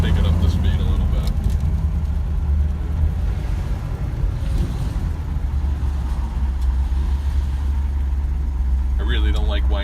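A 1968 Chevy Camaro not yet warmed up, rumbling along a highway at moderate speed, with a steady low engine drone and road noise throughout, fairly close, with no talk.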